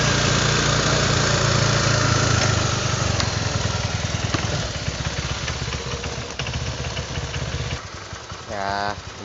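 A worn Honda Vario 125 scooter engine runs steadily with a rough, uneven note and a sluggish throttle response, and the revs rise again near the end. A voice speaks over it.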